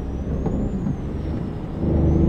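Truck air brake in a truck driving video game, a short hiss of released air over a low rumbling engine, with a faint tone gliding above it.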